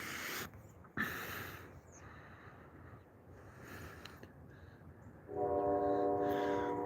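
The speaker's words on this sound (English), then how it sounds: "I hear a train coming through town. The train's coming through." A B&O Railroad train rolls through a town in Gettysburg with a distant rumble, and its horn sounds clearly near the end.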